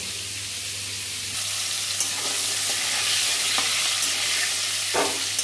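Pointed gourd (potol) slices fry steadily in a pan, a continuous close sizzle with light stirring and a few scraping clicks of a utensil, no voices.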